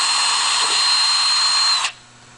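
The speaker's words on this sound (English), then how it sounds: "we're going to go ahead and drill a hole in that rod" A small 1/16 inch bit drills a hole in a rod, a loud, steady high whine that holds for nearly two seconds, then cuts off sharply into a faint hum.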